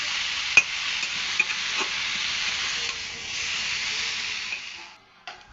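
Fish curry simmers and fries in a pot, giving a steady, close sizzling hiss with soft stirring scrapes and a few sharp clinks, the sizzle dropping away near the end.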